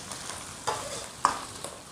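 Pork stir-fried with ginger, scallion, garlic and Sichuan bean paste in a lightly oiled wok, cooking a home-style radish and pork dish; a soft, steady sizzle with a few faint clinks of the spatula, quiet and without talk.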